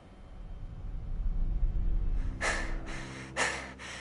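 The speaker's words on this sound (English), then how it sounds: "But why are you panting?" Two sharp, breathy gasps from a character in Hogwarts Legacy, arriving close together in the second half over a low steady background rumble.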